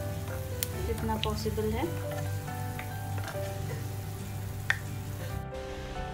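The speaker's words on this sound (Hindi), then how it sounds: "ऐसे ही छोड़ दे जब तक कि वो साइड से पूरी तरह से फ्राई होके हार्ड नहीं हो जाता" Malpua frying in oil in a pan, a steady close sizzle with small crackles throughout, while someone talks over it.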